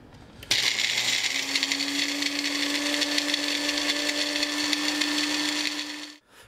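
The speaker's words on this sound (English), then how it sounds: "And then you just blend them all together." A blender whirs steadily while grinding spices into homemade chili powder, a loud continuous motor drone with a rising hum that runs for about six seconds, then cuts off abruptly.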